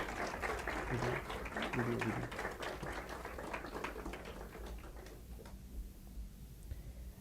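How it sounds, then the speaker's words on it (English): Audience applause at a college magazine release event: a broad patter of clapping from a crowd, fullest at the start and thinning out toward the end, with a few voices mixed in. "Let us have a round of applause for everyone who has contributed to the Grey Matter thus far"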